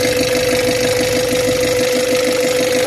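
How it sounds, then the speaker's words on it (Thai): A 2006 Nissan Urvan E25 van with about 110,000 miles idles loudly and close by, a steady engine drone with a fine knocking pulse and no talk over it. "จะสตาร์ทเครื่องให้ฟังนะครับ"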